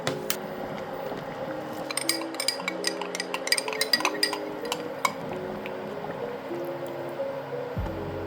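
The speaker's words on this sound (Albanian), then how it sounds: "Kam marrë 1 gjysmë lugë miell, edhe do ta përzijem me pak ujë." Half a spoonful of flour is stirred with a little water in a bowl, with light clinks of a spoon against the dish and soft wet sounds over a faint steady tonal hum.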